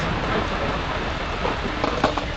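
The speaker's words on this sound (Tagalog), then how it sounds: "Kaya lumalakas na yung ulan." Rain pouring steadily in a rural province during a skateboarding session, a dense, even hiss filling the space with a few brief louder patters near the end.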